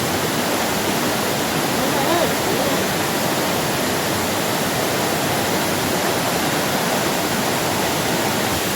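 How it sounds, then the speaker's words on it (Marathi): Waghoba waterfall in Palghar roars as a steady, dense broadband rush of falling water, loud and continuous throughout with no pauses. "हा आहे वाघोबा वॉटरफॉल"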